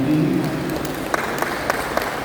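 Audience applause at a ceremony as a name is called for the dance division, a dense wash of clapping that carries steadily for a couple of seconds with a few sharper claps standing out.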